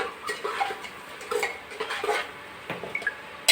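A spoon stirs garlic chili masala into a ridge gourd curry in a pot, with scattered light metallic clinks and scraping taps against the vessel, close and fairly quiet.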